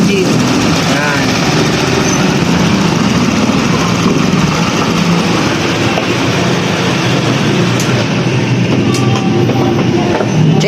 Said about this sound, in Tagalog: Engine refresh Honda Click 125 version 2. Yan. Tahimik yung engine.